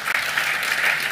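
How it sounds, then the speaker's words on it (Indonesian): A church audience claps in a dense, steady burst of applause that fills the whole moment without letting up. "Tepuk tangan buat Tuhan Yesus."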